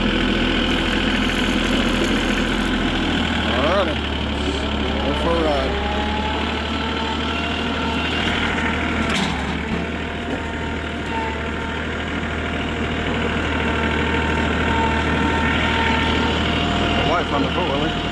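A four-wheeler ATV engine idles steadily nearby for the whole stretch, a constant low rumble with faint voices underneath.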